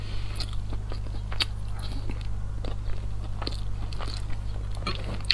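Boiled egg white is chewed close to the mouth, giving soft, moist biting and squishing sounds in an uneven rhythm over a low steady hum.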